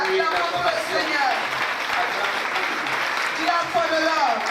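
A church congregation claps and cheers during a sermon, sustained applause filling the room while voices shout and call out over it.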